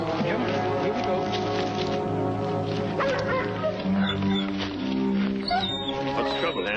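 A pack of tracking dogs bark, yip and whimper on a trail, mixed under a continuous music score and dialogue in an old television western.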